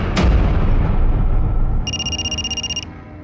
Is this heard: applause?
no